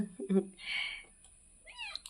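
A kitten gives a couple of short, high meows close by, with a breathy hiss between them and no talking.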